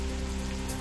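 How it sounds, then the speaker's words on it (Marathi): Steady rain falls on surfaces in the town of Parli in Beed, a continuous dense hiss with no voices. "बीडच्या परळी शहरामध्ये पावसाचं पुनरागमन, समाधानकारक पाऊस झाल्यामुळे नागरिकांनाही उकाड्यापासून दिलासा"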